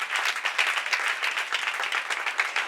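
A church congregation at a Sunday service applauds their king, a dense, steady burst of many hands clapping close by, with no talk over it.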